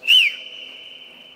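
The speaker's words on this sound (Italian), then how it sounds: "Posso fare un fischio? Stappati le orecchie che fischia forte," A loud human whistle inside a vast abandoned NATO base: one sharp rising-then-falling tone that settles into a long, steady ringing note as it echoes through the empty space.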